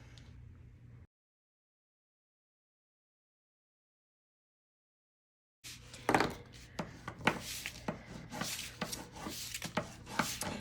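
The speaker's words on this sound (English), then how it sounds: "we're gonna put tape on the inside" Tape being pulled and pressed onto a cardboard flap, a brief rustle, then a long silence, then a busy close run of rubbing, tearing and tapping sounds with sharp clicks.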